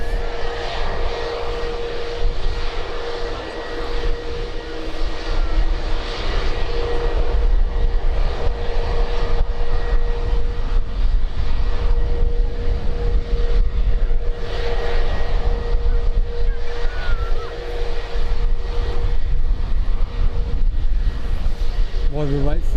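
An EasyJet jet airliner at Birmingham Airport gives off a loud, sustained engine roar with a steady whining tone. The roar swells and holds for over twenty seconds while people talk over it nearby.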